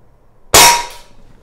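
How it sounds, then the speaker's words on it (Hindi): A single sharp crack from a Legends cowboy CO2 lever-action air rifle, close and loud, with a brief metallic ring fading within half a second; quiet before and after. "हम लोग उस पर फायर करेंगे और आप देखिएगा सेल्स कैसे बाहर उड़ते हैं"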